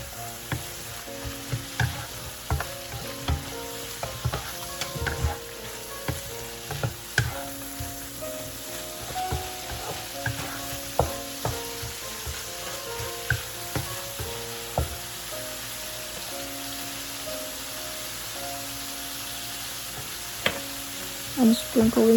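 Rice stir-fried with shrimp and egg in a hot pan gives a steady close sizzle, broken by frequent quick spatula clacks and scrapes throughout, with soft tonal music faintly underneath.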